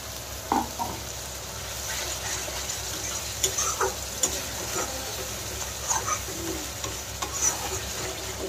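Tomatoes sizzle and fry in a pan for an egg korma masala, a steady crackling hiss broken by scraping and clinking stirs from a spoon at irregular intervals.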